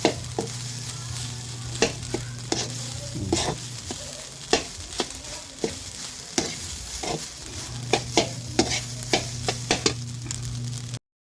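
Garlic fried rice, hotdog and eggplant fry steadily in a pan for a rural breakfast, with a continuous sizzle punctuated by repeated sharp scrapes and knocks of a spatula stirring, close and fairly loud.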